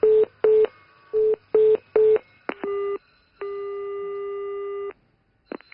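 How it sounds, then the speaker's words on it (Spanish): Telephone tones after a dropped call: a rapid series of short beeps, then a few longer steady tones of a busy signal, ending with a brief final beep, clear and close with no talking. "¡Que tengo mala cobertura, que se me cuelga!"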